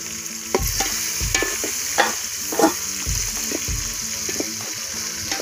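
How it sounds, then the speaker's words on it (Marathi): Spices, chillies and tomato fry in oil for a goat biryani tempering over a wood-fired stove, sizzling loudly and steadily up close while a spoon stirs and scrapes the pot in an uneven rhythm, with no speech. "बघू शकता मसाला कसा तळत आहे तेलामध्ये."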